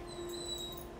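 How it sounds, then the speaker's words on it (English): A puppy whimpers faintly somewhere in the background indoors, a thin high-pitched whine lasting about a second over soft room noise, with no talking. "I've got a very noisy puppy in the background"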